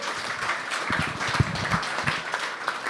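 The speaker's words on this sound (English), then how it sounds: "Keep the applause, guys, going for all the panellists today." Applause for the panellists at a construction-technology networking event, a short burst of scattered claps from a modest crowd, fairly quiet and uneven.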